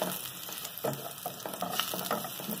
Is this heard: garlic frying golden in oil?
yes